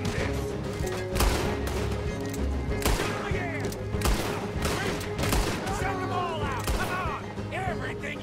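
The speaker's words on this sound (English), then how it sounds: "Oh my gosh, I almost just shot a freaking Micah!" Gunfire in the Red Dead Redemption 2 video game: a loud fusillade of repeated shots and crashes over continuous game music and effects, with voices talking throughout.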